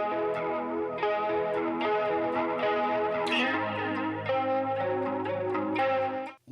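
An electric guitar played through a chorus effect on an HX Stomp worship rig rings out in shimmering, wavering chords and notes, sustained and close, with no voices.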